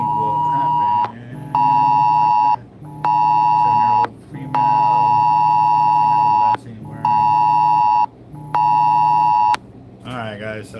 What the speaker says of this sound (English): I'm getting the notification, probably everybody else is getting the notification too